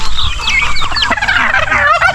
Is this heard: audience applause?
no